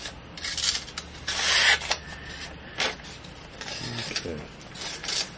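A Case pocket knife drawn across a sharpener in a series of irregular rasping strokes, close and fairly loud, with short pauses between passes.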